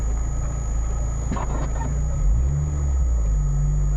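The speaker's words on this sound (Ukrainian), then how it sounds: "Відійди, я пів метра проїду вперед." A car's engine idles with a low steady rumble, then rises briefly as the vehicle creeps forward about half a meter on a city street, close and continuous.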